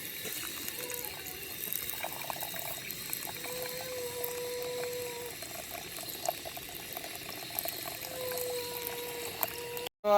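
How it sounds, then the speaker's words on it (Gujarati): Khichdi rice and lentils being rinsed with water during outdoor camper-van cooking, a low steady swish of water with faint trickling, ending in a brief clatter. "ખીચડી હવે આપણે ધોઈ નાખશું"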